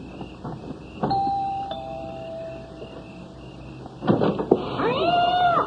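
Meowing from a cat heard in a radio drama scene, with a long sustained cry near the start and a louder, more emphatic burst of meows toward the end, over a quiet background.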